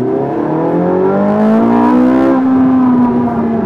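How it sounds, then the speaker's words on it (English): A Ferrari 458 Italia's engine revs hard in second gear, its loud, close roar climbing steadily in pitch, then easing slightly as the rise levels off near the end. "I'll just give you a blurt behind this lorry."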